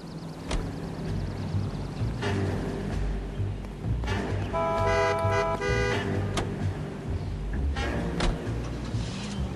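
Car driving in the video game L.A. Noire, a low engine drone with passing traffic, brief horn toots and sharp clicks around it, at moderate level with no talk.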